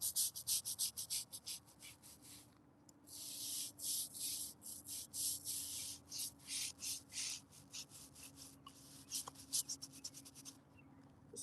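A brush scrubs a gravestone during gentle cemetery restoration, giving rhythmic back-and-forth bristle strokes in steady bursts with brief pauses, faint and close, with no talking.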